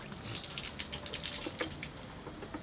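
Water runs steadily from a tap as teeth and mouth are rinsed at a sink, a continuous splashing stream with small drips and gurgles, close by and without talk.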